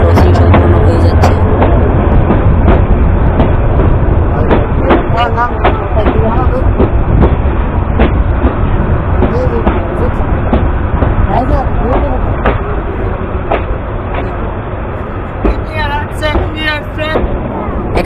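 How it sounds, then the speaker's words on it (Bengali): A passenger train on the Narsingdi to Kishoreganj line in Bangladesh pulls away from Kuliarchar station, a loud steady rumble with repeated rail clicks and clatters throughout, and faint voices beneath. "এখানে 2 মিনিট যাত্রা বিরতি দেওয়ার পর আমাদের ট্রেনটি আবার ছুটে চলল পরবর্তী গন্তব্যের দিকে।"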